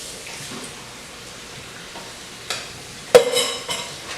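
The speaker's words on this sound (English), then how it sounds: "I'm going to drain and rinse these and just add them into the pot" Canned white kidney beans, drained and rinsed, tipped into a soup pot: soft shuffling and a faint hiss, then a sharp clatter and a wet splash with short scraping stirs after it, close and fairly quiet.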